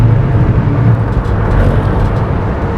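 A 400bhp BMW M135i race car roars on a racetrack, its engine a loud, steady low drone heard close up from inside the car, with a constant rumble and no talking.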